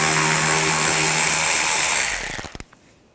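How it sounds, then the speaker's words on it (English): Power tool with a T20 socket backs a bolt out of the rear bumper impact absorber area of a 2014-2020 Nissan Rogue, a loud steady whir that winds down into a few quick clicks and stops. "Now I'm going to remove this bolt, use a T20 socket."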